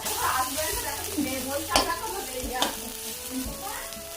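Food fries, sizzling steadily in a hot pan while a utensil scrapes and taps against it several times, stirring at an irregular pace.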